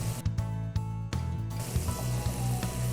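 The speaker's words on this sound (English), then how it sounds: "See, hear that sizzle?" Butter sizzles and crackles in a hot stainless steel pan, a steady hiss close by with scattered pops and some low clattering near the start.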